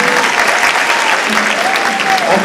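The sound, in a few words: applause from the audience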